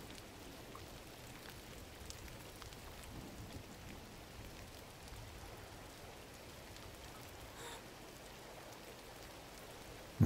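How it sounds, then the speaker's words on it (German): Steady, dense rainfall in the video game GRIS hissing continuously over a low rumbling bed, unbroken throughout, with no talking. "Oh, es regnet."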